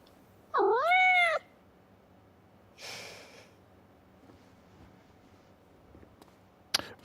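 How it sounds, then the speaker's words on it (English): A cat meowing in the video game Life is Strange Double Exposure, one clear drawn-out meow followed by a short breathy snort and a brief sharp click, close and distinct against quiet background. "Fuck Jackie, I want to keep the cat."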